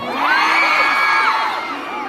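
A crowd at a live show in Naga City cheers loudly, with high whoops and yells. The roar holds steady and close for the whole moment.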